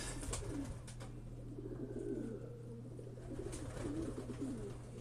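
Pigeons cooing softly and repeatedly at a loft as evening falls after group training, low murmuring calls continuing steadily over a constant background hum.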